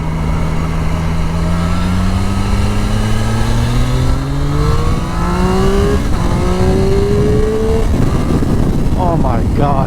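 A 2024 Triumph Street Triple RS motorcycle engine drones loud and close while riding, its pitch climbing steadily through the gears with brief dips at shifts, and a rider's voice breaking in near the end amid wind rush.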